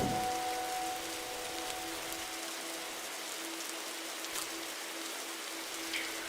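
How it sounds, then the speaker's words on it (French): Steady rain patters across surfaces in a forest survival game in Roblox, a soft continuous hiss with a faint tonal hum fading early; no voices. "Puis il commence à pleuvoir."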